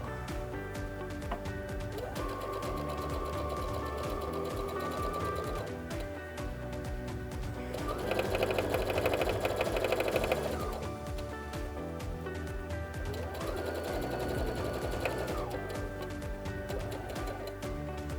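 A domestic sewing machine runs top stitching across a half apron in bursts, a steady mechanical whir that starts and stops several times, with the loudest run in the middle and no talking.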